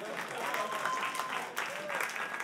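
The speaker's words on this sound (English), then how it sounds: "Clap your hands if sometimes you're even a little bit racist." A stand-up comedy audience claps along in a dense, moderately loud burst of applause that carries on steadily, with voices from the crowd mixed in.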